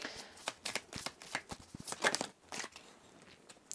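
Oracle cards are shuffled by hand, giving a quick series of soft riffling flicks and taps up close at low volume, with no speech.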